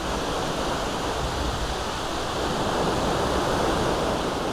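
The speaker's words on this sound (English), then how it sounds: "The water's gushing down behind me." Water gushes down a loch outflow channel in a steady, loud, close rush of broadband noise that continues without a break, and no one speaks over it.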